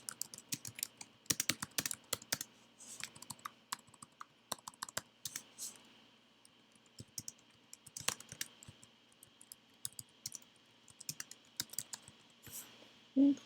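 Rapid, uneven clicking of a computer keyboard as a message is typed, with bursts of keystrokes running steadily throughout and no voices.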